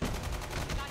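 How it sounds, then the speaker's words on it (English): Machine gun fire in the mobile shooter COD Mobile, a continuous dense rattle of rapid shots filling the moment. "They got a machine gun?"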